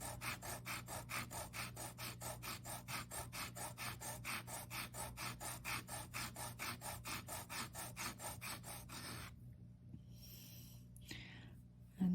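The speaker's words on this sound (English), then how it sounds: "Now let's sand the other side." A polymer clay ring rubbed on sandpaper makes a fast, even back-and-forth rasp of about four strokes per second for nine seconds, then stops, leaving quiet room noise and a brief handling sound.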